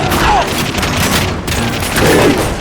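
Dense, sustained gunfire from the first-person shooter video game The Darkness II, loud and continuous with no clear gaps between rounds, forming an unbroken barrage for nearly three seconds.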